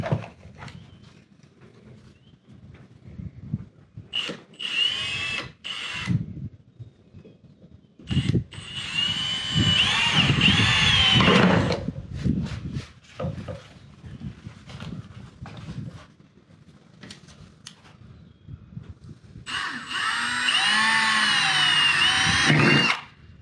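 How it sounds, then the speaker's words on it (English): A power drill whirs in several bursts, stopping and restarting as it bites into material while installing a dog door, with quiet pauses and small handling clatter between runs. "I'll drill these out and then I'll turn it over and I'll drill the other holes the same way."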